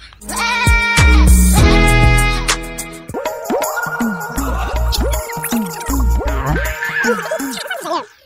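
Several goats bleat loudly and close by, their wavering, quavering calls coming one after another throughout, with a burst of overlapping bleats early on followed by a steady series of shorter cries.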